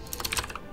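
Rapid keystrokes clatter on a computer keyboard as a console command is entered during a Hearts of Iron IV session, a quick irregular burst of clicks, close and fairly quiet, with no talking.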